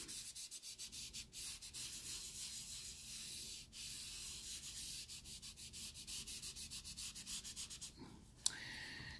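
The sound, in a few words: smudging a pencil drawing on paper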